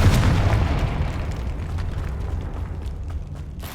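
A fiery Confringo spell blast from the Hogwarts Legacy video game, a deep booming explosion with a rumbling low-end tail that slowly fades over several seconds, heard alone.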